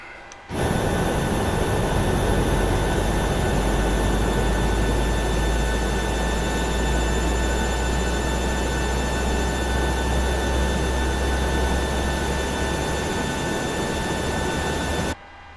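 Jet engine of a PMDG 737-700 spooling up during start in Microsoft Flight Simulator, a steady loud broadband roar with high whine tones holding for about fifteen seconds, alone without talk.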